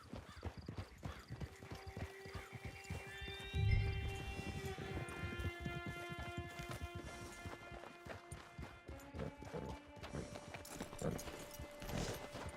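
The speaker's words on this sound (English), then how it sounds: "It's your horse." A horse in the Red Dead Redemption 2 game world clops steadily along with hooves clip-clopping at a walking pace, a whinny rising partway through, and musical tones layered underneath.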